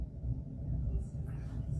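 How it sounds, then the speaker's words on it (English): Loud, sustained low rumble of thunder from a passing storm, rolling steadily through the whole stretch with faint higher hiss above it, no voices. "That was some really loud thunder."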